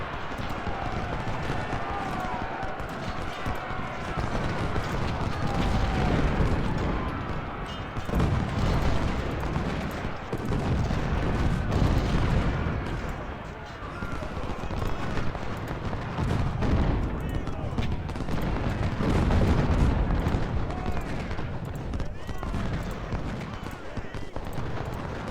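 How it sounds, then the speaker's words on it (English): Artillery booms in a Civil War battle at Antietam in Ultimate General: Civil War, with heavy, irregular cannon blasts, scattered gunfire and hoofbeats forming a dense, continuous din while someone talks over it. "That's the artillery."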